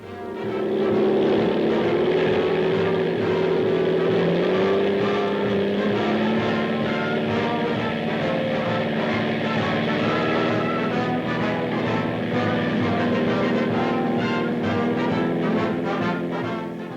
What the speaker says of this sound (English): a rapid and continuous flow of planes from the flight deck